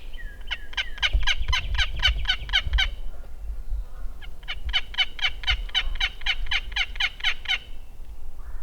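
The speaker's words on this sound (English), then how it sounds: "we had 3 different turkeys gobbling" Two long rattling gobbles from wild turkeys, rapid repeated notes in quick series, moderately distant, with a brief gap between calls over low background rumble.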